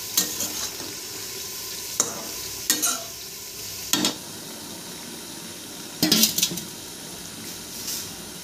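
Lote fish cooking in a pan with turmeric, a steady low sizzle broken by several sharp bursts of stirring and scraping, with no talk.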